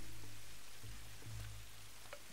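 Rain falling in the action-adventure game Tomb Raider: a soft, steady hiss of rainfall with a few faint low thuds beneath it, quiet and continuous over a couple of seconds.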